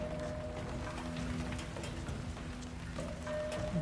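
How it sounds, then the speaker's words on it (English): Steady acid rain in the video game Homeseek patters and hisses without pause, with a faint low hum running underneath. "Here comes the acid rain."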